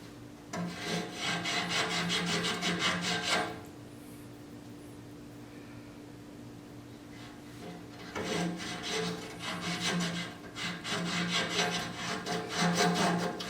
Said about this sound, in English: I'm going to run it down through these hinge sockets in order to clean out some of the rust that's in there